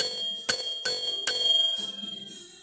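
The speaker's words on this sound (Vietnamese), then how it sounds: "À, chiếc chuông này vẫn còn cổ xe và vẫn hoạt động ok." Bicycle bell on a CheVaux touring bike struck three times in quick succession, each bright ding ringing out close and clear, followed by a longer decaying shimmer.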